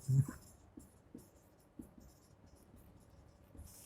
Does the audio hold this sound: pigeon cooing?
no